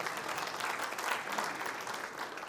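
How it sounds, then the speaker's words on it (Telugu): An audience at an evening meeting applauds, with dense, steady clapping that holds at an even level for the full stretch and no voices on top. "మీ అందరికి చప్పట్లు కొట్టుకోవాలి"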